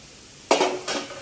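Chopped ridge gourd tipped into a pan of cooked potato and onion, two quick bursts of sizzle and clatter close by, the first sharper, after a quiet start.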